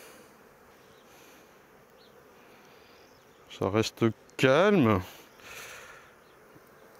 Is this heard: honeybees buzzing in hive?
yes